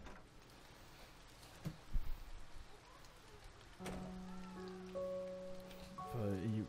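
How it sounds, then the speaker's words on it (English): Rain falling in the video game A Bird Story, a soft, steady patter of drops alone, with a few brief clicks and tonal game sounds near the end. "It's raining, get the umbrella."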